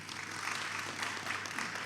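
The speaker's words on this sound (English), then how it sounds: "Another round of applause for our recipients." Continuous applause fills a hall as scholarship recipients are honored at a ceremony, a brief steady burst of many hands clapping without speech.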